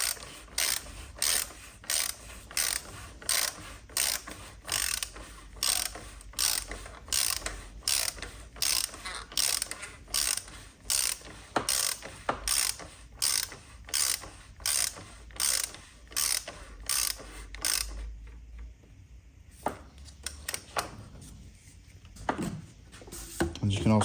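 Ratchet clicking from a torque wrench tightening the oil filter housing on a 2017 Peugeot 308 1.6 HDi, a long run of steady rapid strokes, close and loud, then pausing near the end.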